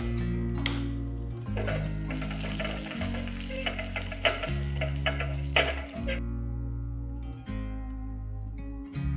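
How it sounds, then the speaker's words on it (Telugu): Loud, close sizzling of cashews and raisins frying in ghee, with stirring clatter and a low steady hum underneath, no speech. "జీడిపప్పులు వేగిన తర్వాత కిస్మిస్లని కూడా వేసి వేయించాలి"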